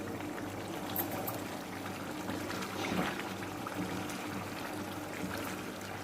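Chana dal poured into a pot of water gives a steady, soft liquid rush and bubbling that lasts the whole stretch. Fairly faint and even, with no talk.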